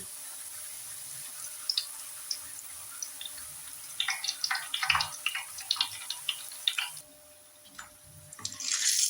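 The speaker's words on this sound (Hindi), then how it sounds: "अब एक एक दो दो इसमें डालेंगे और फ्राई करके इसको निकालेंगे।" Papdi dough pieces dropped into hot oil set off crackling, popping sizzles that come in irregular bursts, building in density and then easing toward the end, with no talking.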